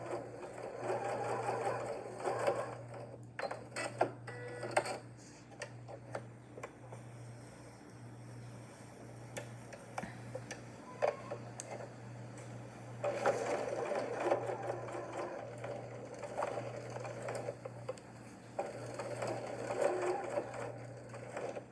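A Janome sewing machine basting a quarter-inch seam on a tote bag, its steady mechanical whir running continuously with a constant low hum, close up, briefly easing off midway before picking back up.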